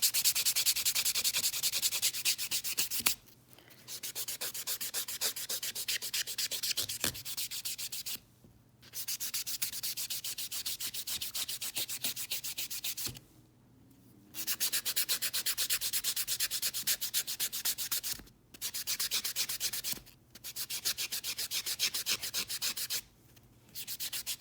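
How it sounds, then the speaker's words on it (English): Nail buffer rubbing over dip-powder nails coated with glitter and clear topcoat, a close, steady scratchy sanding in long bursts separated by short pauses, with no talking. "so there's the buffing"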